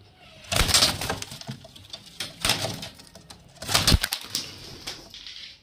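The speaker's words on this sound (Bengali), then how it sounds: "আর দুটো ম্যাড্রাস পায়রা দেখতে পাচ্ছেন, খুব সুন্দর কোয়ালিটির পায়রা এবং খুব সুন্দর ওড়ানের পায়রা।" Madras pigeons coo in soft, low repeated phrases close by, mixed with short bursts of wing flapping and rustling, with no talk.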